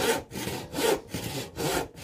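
A panel saw cuts through oak timber in steady back-and-forth strokes, about five rhythmic rasping pulls with brief pauses between them, close and clear, with no talking.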